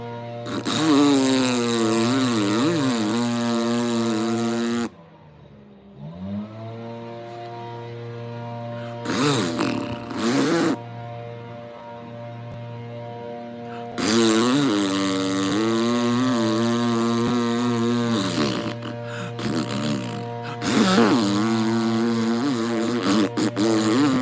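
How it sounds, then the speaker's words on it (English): A leaf blower running in a garden, its loud droning engine rising and falling in pitch in long sustained bursts with brief lulls between them. "Leaf blower, the most useless piece of gardening implement, literally replaced by 5 minutes and a rake."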